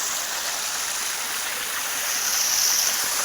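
Water falls and flows like a small waterfall beside farm fields, a steady close rushing hiss that holds constant throughout with no talk.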